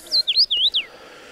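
A common rosefinch (Carpodacus erythrinus) gives a short, clear whistled phrase of four or five sliding notes, fairly close and alone against a faint background hiss.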